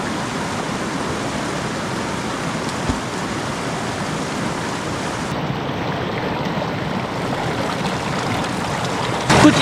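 A mountain river rushes past in a steady, broadband roar of flowing water, constant and close, with a brief louder splash or knock at the very end.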